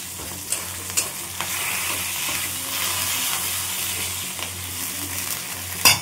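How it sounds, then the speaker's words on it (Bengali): Ash gourd fries and is stirred in oil with moong dal, cumin, bay leaf and green chilli. A continuous close sizzle is broken by occasional scraping stirs and a sharp clack near the end. "তো একটু ভাজা ভাজা হয়ে যায়, পুরো চাল কুমড়োটা দিয়ে দেবো"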